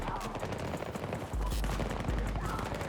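Sniper gunfire in an online shooter game, a dense, loud stretch of shots and blasts with a heavy low rumble, while a voice talks faintly underneath.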